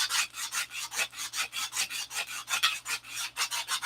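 Rhythmic back-and-forth sanding strokes on the hardwood edge of a model airplane's nose cowl, about twelve even rasping passes in four seconds, close and steady with no talk.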